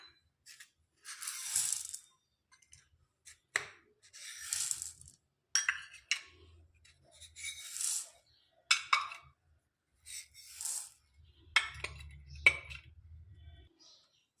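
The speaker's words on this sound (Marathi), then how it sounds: "आता मी या सर्व डाळींना एका बाउलमध्ये मिक्स करून घेते." Assorted dry lentils rattle and clink as they are stirred together in a bowl, in scattered bursts with short pauses and a low hum in places.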